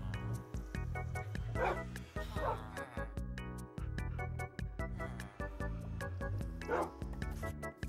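Small dogs in the video game Minecraft yip and bark in quick repeated bursts over loud, rhythmic game music with a strong beat, with no speech.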